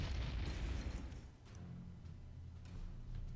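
A deep, rumbling artillery blast in the World War II strategy game Panzer Corps, a heavy boom that rolls and decays over a few seconds with faint crackling afterward.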